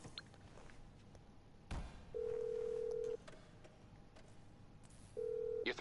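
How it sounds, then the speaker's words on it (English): In GTA Online, a phone call rings as two separate electronic tone bursts, each about a second long. They sound over a quiet in-game background with a few soft clicks and bumps. "Stop getting phone calls."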